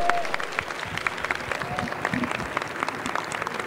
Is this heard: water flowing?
no